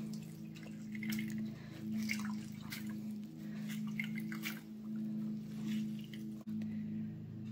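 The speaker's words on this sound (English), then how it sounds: "really squeeze the cheesecloth so I can get up all the liquid" Liquid drips and squelches out of squeezed cheesecloth holding a turkey tail mushroom decoction, giving soft wet squishes and irregular patters close up over a low steady hum.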